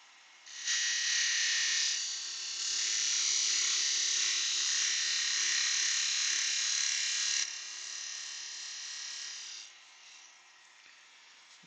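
Wood spins on a lathe while a goblet with captive rings is turned, giving a steady airy whir and hiss that fades after about ten seconds, with no talking.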